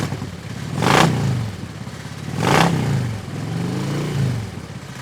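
A 2018 Harley-Davidson Ultra Limited touring motorcycle on the road, its engine droning steadily with two loud rising whooshes of wind or passing traffic sweeping by, plus a lighter swell near the end.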